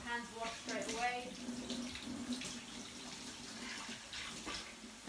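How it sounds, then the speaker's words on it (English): Tap water running over hands at a kitchen sink during cooking, a soft continuous splashing rush, close but quiet, with a faint voice briefly audible near the start. "making sure that you're getting your hands washed straight away"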